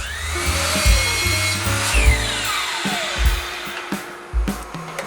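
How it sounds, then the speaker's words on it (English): Miter saw cutting wooden nightstand legs to length, a whining motor spinning up and winding down with the bite of the blade into the wood, close and loud with no voices. "While at the miter station, I go ahead and cut the feet or legs to their final length."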